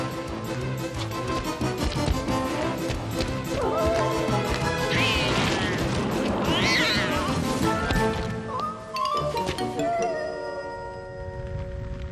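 A cartoon cat meows and caterwauls amid a busy animated soundtrack with crashes, clatter and music. Short meows rise and fall over the din, and a voice speaks briefly.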